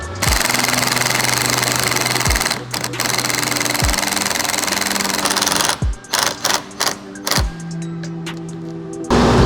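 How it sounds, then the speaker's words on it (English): Angle driver running in short bursts as support screws go halfway into pre-drilled holes in a plastic front bumper while a NIA splitter is fitted to a 2021+ Lexus IS; a steady motor whine is broken by several brief stop-start pulses. "you're gonna drill them in halfway through all the pre-drilled holes with your angle driver"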